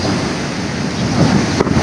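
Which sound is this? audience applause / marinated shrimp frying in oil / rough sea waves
rough sea waves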